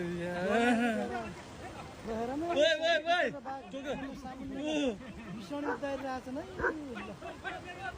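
A dog facing a tiger barks and yips repeatedly, mixed with whining and excited voices chattering throughout.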